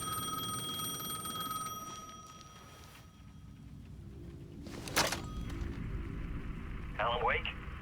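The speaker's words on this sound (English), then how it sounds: "The payphone was ringing again." A payphone in Alan Wake 2 rings out in bright electronic bursts, first sustained then a short trill, amid dark ambient game sound and a brief crash.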